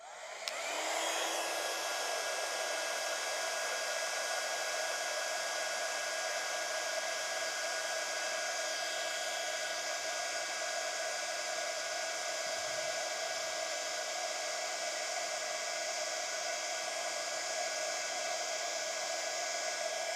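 A heat gun blows steadily on a card to melt embossing powder, a continuous loud airy whoosh with a whining tone that holds unchanged for about twenty seconds after a brief start, with no voices.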